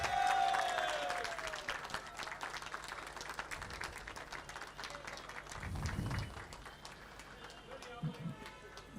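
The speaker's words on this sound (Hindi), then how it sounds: "हम जोरदार तालियों के साथ रोहित साहब का इस्तकबाल करेंगे।" Audience applause at a film-industry workers' federation (FWICE) ceremony honouring director Rohit Shetty: dense, broadband clapping rolls on steadily for the whole stretch, fairly loud and close, with crowd noise mixed in.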